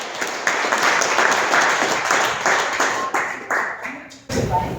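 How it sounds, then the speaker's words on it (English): Audience applause at a talk, with dense individual claps rolling steadily for about four seconds before tapering off, then a voice begins speaking. "Round of applause."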